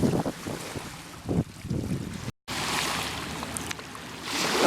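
Strong wind buffets the microphone on the Casco Bay coast, with a steady roar broken by a brief dropout, and waves wash faintly beneath it.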